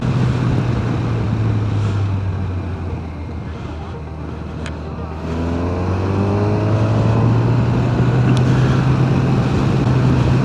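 A Kawasaki Versys motorcycle engine drones steadily while riding, dipping briefly and then climbing as revs rise again, with heavy wind rush over it.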